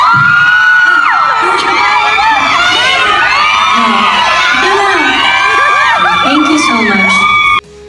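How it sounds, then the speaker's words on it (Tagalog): Fans scream and cheer at an awards event honoring the Box Office queen and king, a shrill, sustained roar of many voices that runs loud and unbroken before cutting off abruptly at the end. "sigawan agad ang kanyang mga tagahanga"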